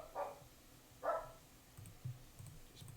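A dog gives two short, faint barks about a second apart in an otherwise quiet indoor room, with low background hum between them.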